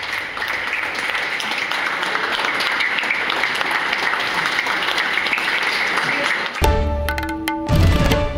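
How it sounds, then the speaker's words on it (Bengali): Junior doctors applaud senior doctors in a hall: dense, sustained clapping fills the first six seconds, then gives way to scattered claps and other sounds near the end. "সিনিয়র চিকিৎসকদের করতালি দিয়ে তাদের স্বাগত জানাচ্ছেন"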